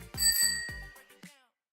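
A bright bicycle-style bell chimes twice in quick succession, followed by a faint third ding, clear and close with ringing overtones that decay into silence.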